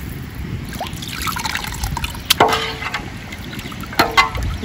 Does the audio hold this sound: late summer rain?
no